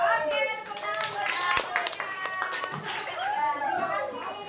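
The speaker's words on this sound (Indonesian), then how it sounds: "tepuk tangan buat" A group of children clap their hands together in a classroom, a busy burst of applause mixed with lively young voices talking and calling out throughout.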